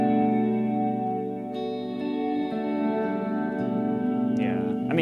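A pedalboard effects unit running a reverse reverb algorithm with the mix and decay turned up, giving a sustained, swelling wash of chorus-like harmonic tones that fills the space without pause for the whole stretch.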